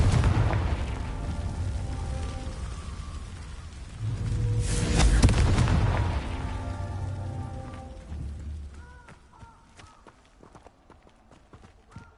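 A Confringo blasting spell explodes in Hogwarts Legacy on PS5, a loud broadband burst swelling around the middle over rumbling low game ambience, then fading into quieter sparkling effects.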